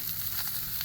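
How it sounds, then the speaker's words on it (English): Pieces of teriyaki pork chop sizzle in a hot, oiled pan: a steady, close crackling hiss that carries through the whole brief moment with no voices. "meat is cooking."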